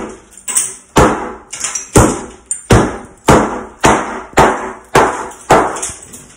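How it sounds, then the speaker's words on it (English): A mallet strikes tile around a bathtub and shower during bathroom demolition. Ten or so loud, sharp blows land at a steady rhythm close by, each with a crack and a brief rattle of breaking ceramic. "I'm using a mallet to get the rest"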